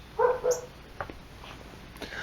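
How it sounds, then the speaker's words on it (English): A dog gives two short, loud barks close by, followed by quieter rustling and faint background noise. "Dog bark, dog bark."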